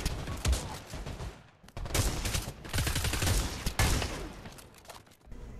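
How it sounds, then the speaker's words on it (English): A Barrett sniper rifle in the Pavlov VR shooter fires in rapid succession with fast reloads, loud repeated shots and clattering bolt action packed densely across the passage. "You shoot them, reload it fast again, and then shoot them again."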